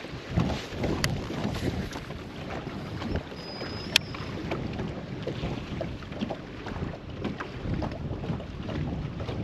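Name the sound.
wind over the water while fishing from a boat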